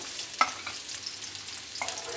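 Onions go into hot oil in a pan for a rohu fish curry with bitter gourd and potato, giving a soft, steady sizzle with a few brief spoon-stirring scrapes, fairly quiet and close, no voices.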